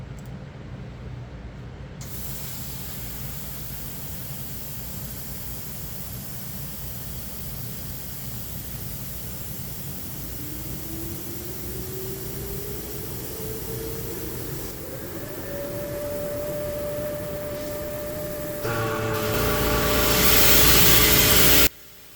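A laser engraver cuts an acrylic price board with a steady, loud broadband hiss of fans and air assist. A motor-like whine slowly rises in pitch, and the noise swells brighter and louder near the end.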